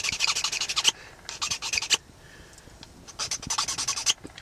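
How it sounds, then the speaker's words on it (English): An antler tine is sharpened on a broken piece of file, with quick, close rasping strokes in two rhythmic bursts separated by a short pause. "we can sharpen this tine up a little bit on just a broken piece of file"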